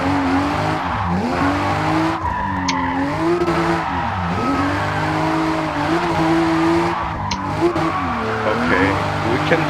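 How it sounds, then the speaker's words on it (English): A stock car drifts sideways in Forza Horizon, its engine droning and revving loudly and continuously with tire squeal woven through the sustained roar. "let's see if we can drift with this stock car. And as you can see, we can go sideways"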